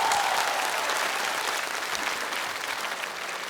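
Dense, steady applause from a stand-up comedy audience fills the room, loud and continuous for the whole stretch with no voices on top.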